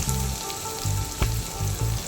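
Oil sizzles and spits in short bursts, with a few sharp pops from frying lentils, close by and without any talking.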